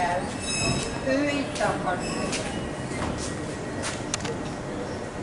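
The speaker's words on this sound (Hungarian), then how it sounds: "Ez a vonat megy a Balaton északi oldalán." The Vízipók passenger train runs along the north shore of Lake Balaton, rumbling past close by with metallic squeals and clinks while a voice talks over it.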